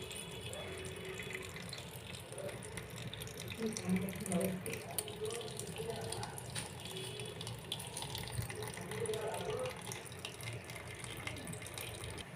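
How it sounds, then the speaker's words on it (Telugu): Spinach leaves are washed by hand in water, giving a soft, continuous splashing and trickling that swells and fades over several seconds, with a voice talking over it. "మనం బచ్చలి కూరను ఇలా నీళ్ళలో బాగా ఒక 2-3 సార్లు కడుక్కోవాలి"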